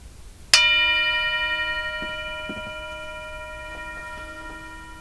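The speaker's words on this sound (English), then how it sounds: "I'm going to ring the bell. I'm going to ask you to listen carefully." A single meditation bell is struck once and rings out clearly, its bright metallic tone holding and slowly fading over several seconds in a quiet room, with a few faint ticks beneath.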